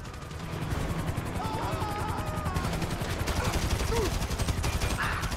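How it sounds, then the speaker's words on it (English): Helicopter gunfire in the video game Grand Theft Auto V, with rapid bursts of automatic shots rattling continuously over a steady rotor-like drone. "Oh crap, chopper's shooting at me."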